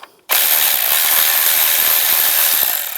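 A ratchet with a 10mm socket loosens the ignition coil bolt on a 2007-18 Jeep Wrangler, a rapid, steady, close clicking of the pawl that runs for a few seconds after a brief quiet start.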